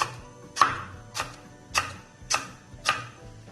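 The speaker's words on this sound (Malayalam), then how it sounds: "ഇതുപോലെ ചോപ്പ് ചെയ്തെടുക്കുക" Raw mango chopped into pieces with a knife for an Onam aviyal: five sharp, evenly spaced chops land close by in a quiet kitchen.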